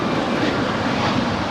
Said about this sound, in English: right behind her is the KLM Dreamliner coming in from Amsterdam